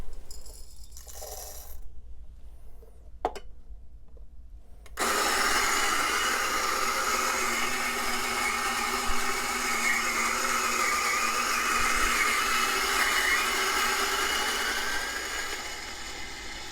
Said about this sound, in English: so let's grind them.